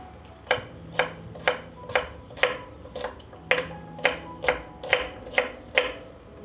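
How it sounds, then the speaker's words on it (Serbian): A knife chops a head of garlic on a board in a home kitchen, giving about a dozen crisp, evenly spaced cuts at a steady rhythm. The cuts are close and clear over quiet room tone, and no one speaks. "iseckat ću jednu glavicu belog luka"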